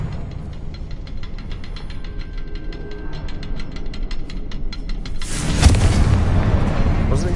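A fire-blasting spell explosion in the Hogwarts Legacy video game clearing spiderwebs: a loud deep boom bursts in near the end, following steady rhythmic background game sounds.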